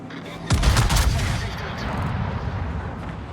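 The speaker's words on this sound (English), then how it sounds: "this salvo looks really, really good" A battleship's main guns fire a salvo in World of Warships (Preussen): one loud, heavy blast that rolls into a long fading rumble.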